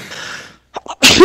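A single hard sneeze up close, preceded by a short breathy intake and a couple of small gasps, ending in a loud, sharp burst with a voiced tail.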